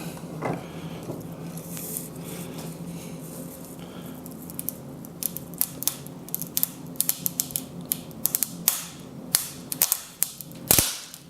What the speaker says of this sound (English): The Doug fir actually splinters quite a bit more.